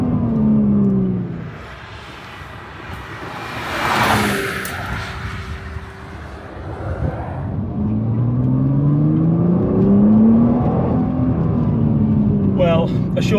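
A Nissan GT-R NISMO driving on a road, its engine rising and falling through several revs and gear changes from inside the cabin, while someone talks over it.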